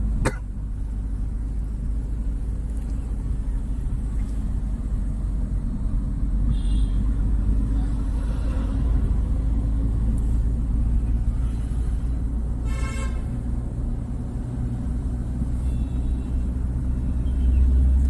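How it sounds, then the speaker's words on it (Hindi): Interior of a manual car being driven on a road during a driving lesson, with a steady low engine and road rumble throughout and a few faint brief knocks and clicks. "हमारी कार उस कार से आगे आ गई है"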